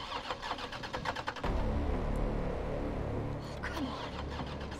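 A car engine in Resident Evil 3 Remake cranks and struggles to start, a rough churning that surges into a loud, sustained mechanical roar and keeps grinding on without settling into a clean idle.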